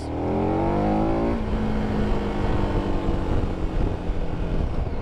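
A KTM 1290 Adventure motorcycle engine roars at high revs, then drops into a rough, throbbing rumble, with wind buffeting the microphone throughout.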